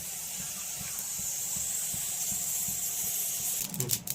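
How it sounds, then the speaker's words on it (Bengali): Whole cumin seeds fry dry in a pan with a soft steady hiss and faint light crackles close by, ending in a few clattering knocks. "গোটা জিরে ভেজে নেব।"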